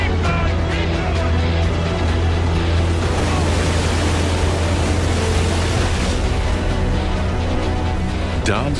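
Heavy sea waves with six-foot swells, three miles offshore off Normandy, produce a constant dense wash of surf and spray, loud and unbroken throughout, with a deep steady rumble underneath like a boat engine.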